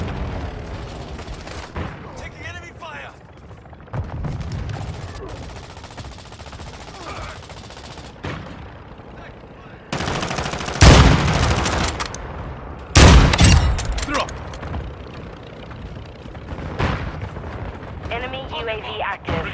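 Enemy gunfire in Call of Duty: Warzone 2.0 combat, with machine-gun bursts and scattered shots under radio-style voice callouts, the loudest volleys hitting hard and close midway through amid explosive booms.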